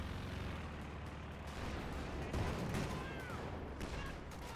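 Artillery fire in a real-time strategy game set at Stalingrad, heard as a steady rumble of distant booms and gunfire with a few sharper blasts, ongoing through the whole stretch under a dense battle din.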